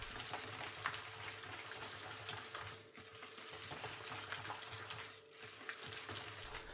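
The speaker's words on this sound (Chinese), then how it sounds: "把肉馅儿搅打上劲儿，这样给它朝着同一个方向快速的搅拌" Pork dumpling filling being stirred quickly in one direction in a bowl, giving a steady wet, sticky churning and slapping texture that runs continuously at close range with brief dips.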